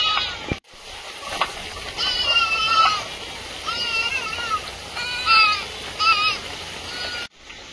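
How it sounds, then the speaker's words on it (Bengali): Goats bleat repeatedly during a heavy rainstorm, with several wavering calls spaced every second or so over a constant hiss of falling rain. "এদিকে ছাগলগুলো কিভাবে ডাকতে দেখো"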